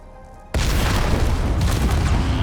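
A missile explosion in a space survival game bursts in suddenly with a deep, loud boom, followed by a sustained roaring, crackling rumble that fills the rest of the moment.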